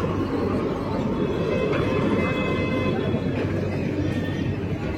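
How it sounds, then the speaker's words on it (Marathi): A train rumbles steadily and loudly close by, a continuous broadband roar of rail noise lasting throughout with no clear talking. "बघू शकता भावांनो हे ट्रेन"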